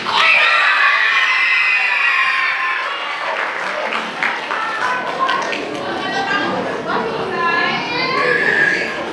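An audience claps at a school spring concert, sustained applause mixed with shouts and cheering from a lively crowd that includes children, swelling again near the end.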